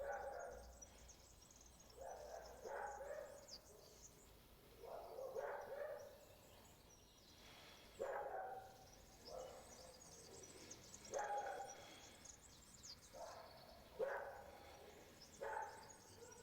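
Three old dogs bark from a yard in repeated short bouts spaced every couple of seconds, faint and somewhat distant against quiet surroundings.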